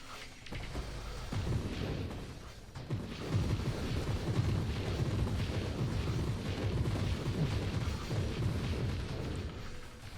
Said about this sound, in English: We did 1 or 2 explosions.